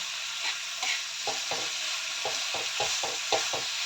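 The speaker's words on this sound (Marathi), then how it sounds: "आता यावरती हा ठेचा टाकून देऊ आणि याला चांगल्या प्रकारे मिक्स करून घ्यायचं" Tomato thecha being mixed in a pan over softened tomatoes, with a soft sizzle underneath a steady run of repeated scraping spoon strokes, close up and with no one speaking.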